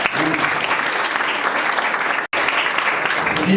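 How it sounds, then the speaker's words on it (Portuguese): A church congregation breaks into loud, sustained applause, close and dense. The clapping runs evenly with a single momentary cut partway through. "Pode aplaudir a Jesus?"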